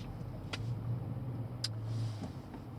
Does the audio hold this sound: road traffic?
yes